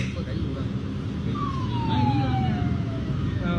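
A police car siren wails past at a distance, one rising-and-falling tone sweeping by over steady street noise outdoors.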